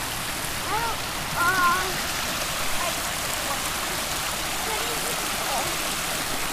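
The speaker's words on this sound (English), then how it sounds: "check out the stream by the bike trail" A stream beside a bike trail runs as a steady broadband rush of flowing water, continuous and fairly close, with faint bird chirps and brief quiet voices over it.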